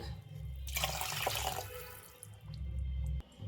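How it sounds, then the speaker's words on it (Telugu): Hot water pours over goat tripe being cleaned in a steady rushing stream for a few seconds, then tapers off, with no voices. "మళ్ళీ కొన్ని గరం నీళ్ళు పోసుకుందాం"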